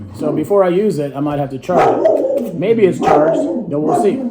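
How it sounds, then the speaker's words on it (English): A pet dog named Georgie gives a few yips and barks mixed among a person talking nearby, the barks short and intermittent under the ongoing speech. "That's my dog, Georgie. He barks at everything."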